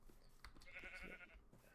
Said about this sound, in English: You got horses, you got sheep.